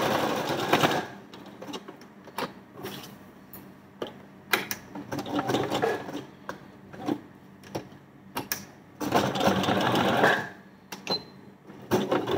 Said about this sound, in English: This seam that I've made now is a little away from the joint.